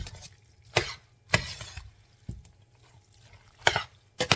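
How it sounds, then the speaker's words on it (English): Shrimp scampi with fettuccine being stirred with a big spoon: a handful of sharp clacks and scrapes of the spoon against the pot, spaced irregularly, over a low soft rumble of moving food, no talking. "so now I'm going to mix this up with my big spoon"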